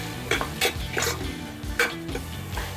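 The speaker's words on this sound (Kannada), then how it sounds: "ಕಸೂರಿ ಮೇಥಿ, ಸೋಂಕಾಳು ಮತ್ತು ಶಾಹಿ ಜೀರಾ ಇದೆರಡನ್ನೂ ಹಾಕೊಳ್ತಾ ಇದ್ದೀನಿ. ಇದು ಎಣ್ಣೆಯಲ್ಲಿ ಚೆನ್ನಾಗಿ ಹುರ್ಕೊಳ್ಳಿ" Kasuri methi, fennel and shahi jeera fry in oil with a soft sizzle, punctuated by several sharp scrapes and clinks of a spoon stirring the pan, close and uneven.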